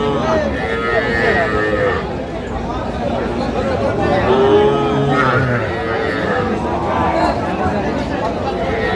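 Cattle at a busy livestock market where meat cattle are being sold, several loud nearby moos rising over a constant crowd hubbub and chatter.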